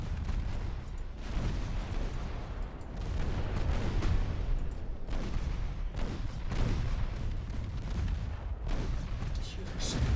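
Naval secondary guns in the Ultimate Admiral Dreadnoughts naval battle game fire repeated booming shots in an irregular, rolling barrage over a constant rumble, loud and continuous for the whole stretch.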